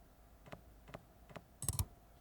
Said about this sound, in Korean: 마우스 또각 소리 여기 마지막에